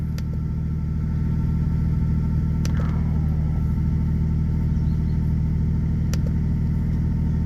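A 1990s Toyota Supra project engine idling slightly rich just after its first successful start, heard as a steady, close, low rumbling idle with an even pulse and a few faint clicks, with no talking.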